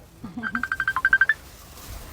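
A telephone rings in a short burst of rapid electronic trills, about a dozen pulses at a steady pitch, heard fairly close, with a voice speaking briefly just before it.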